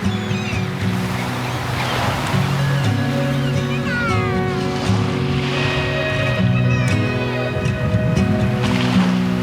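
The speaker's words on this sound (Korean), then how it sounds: "물소리도 너무 예쁘다, 그쵸?" Waves wash steadily along an island shore on Jeju in early spring, a continuous broad surge with boat-like rumble and birdlike chirps layered over it, and no talk.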